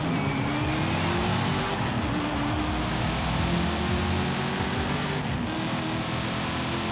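A 2021 Ford Bronco engine racing in Forza Horizon 5 drones steadily and loudly under a sustained engine tone, with shifting pitch bands across seven seconds and no talking.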